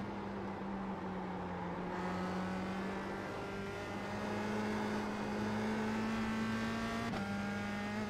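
A USF2000 race car engine at Lime Rock Park in iRacing drones steadily at high revs, its pitch holding and shifting slightly, loud and continuous with no voices.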